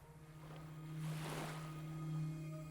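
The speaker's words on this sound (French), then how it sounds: "bercé par le va-et-vient des vagues qui se rythment avec le va-et-vient de votre souffle" Ocean waves wash onto a beach in a steady, soft surge that swells and recedes, with a faint breezy hiss and a low background hum; no one speaks.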